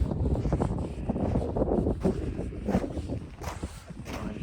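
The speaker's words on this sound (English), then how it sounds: "It's wind. It's very windy right now" Strong wind gusting across an exposed red clay alpine ridge in the Three Sisters Wilderness, a steady roaring buffet on the microphone with rising and falling gusts and faint rustling, no talk.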